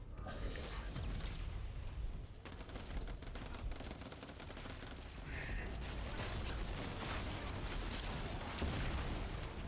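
Gunfire from Pyro enemies in the video game The First Descendant, a continuous dense rattle of rapid shots and booms that stays loud and steady from start to finish, with faint talk underneath.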